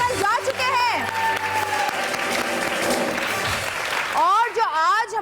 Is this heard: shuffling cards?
no